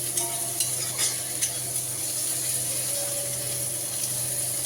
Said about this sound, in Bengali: তেলের উপরে দিয়ে দিয়েছি হিং, শুকনো লঙ্কা, জিরে ফোড়ন, তার উপরে পেঁয়াজ কুচি, একটুখানি আদা বাটা,